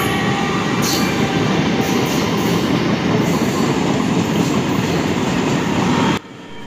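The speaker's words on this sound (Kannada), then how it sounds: "ಸೊ ಟ್ರೈನ್ ಬರ್ತೈತೆ ನೋಡ್ಬೋದು" A train rolls past through a forest-like stretch of land, loud and close, with a continuous rumble and wheel clatter that holds steady throughout and then cuts off abruptly near the end.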